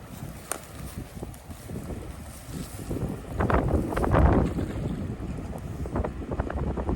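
Strong wind gusts of around 50 miles an hour buffet the microphone beside a river during a fishing trip, rising in loud rushes that build toward the middle and stay blustery.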